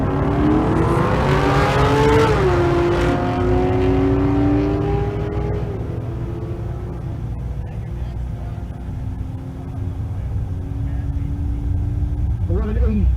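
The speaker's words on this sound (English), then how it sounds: "Rom looking for a 12 flat in the right lane with the C6 Corvette" A C6 Corvette launches down the right lane of a drag strip at a Kearney, Nebraska race, its loud engine revving and rising through gear changes for over ten seconds, with an announcer talking over it.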